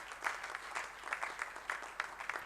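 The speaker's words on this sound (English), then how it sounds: "the whole team of Medimeet 2021 and managing committee of BMB needs a big round of applause" Audience clapping at a Medimeet 2021 medical event hall, a steady wash of many hands with rhythmic swells, moderately distant and continuous for the whole stretch.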